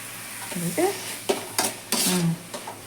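Bottle gourd fries in a pan while a spatula stirs it in several distinct scraping strokes, each stroke rising over a soft, continuous sizzle.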